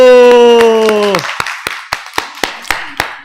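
A church congregation claps together in steady rhythmic unison, about eight sharp loud claps spaced evenly after a sung note fades out.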